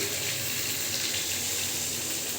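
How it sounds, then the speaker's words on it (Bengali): Water pours steadily into a pan of simmering chicken and tomatoes, a continuous close splashing gush that fills the short moment alone with no talking. "এবারে দিয়ে দেবো জল।"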